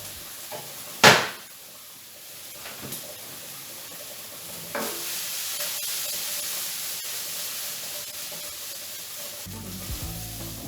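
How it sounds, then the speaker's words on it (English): Pancetta crisping in a pan for spaghetti carbonara gives a steady, fairly loud sizzle and crackle, broken early by a sharp clatter and rising again to a continuous fry, with a low rumble near the end and no talking. "my pancetta is crisped up enough there"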